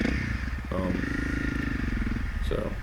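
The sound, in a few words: Honda CRF250L Rally dual sport motorcycle engine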